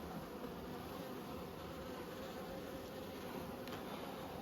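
Honey bees buzz steadily around their hives at an apiary in Nymboida, a faint, continuous drone from many insects with no pauses and no voices.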